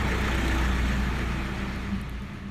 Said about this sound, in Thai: รถขยะมันวิ่งเสียงดังรถขยะนะคะ